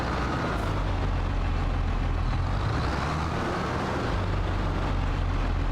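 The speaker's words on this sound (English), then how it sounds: "The tractor's all fired up." A tractor engine idles steadily in Farming Simulator 25, a low continuous rumble with a broadband mechanical hum, close and alone with no talk throughout.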